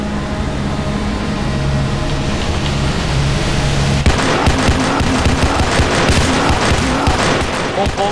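Rapid automatic gunfire in the Roblox game PARACAM, a dense continuous burst of shots that grows harsher and more clattering midway, loud throughout with game noise underneath.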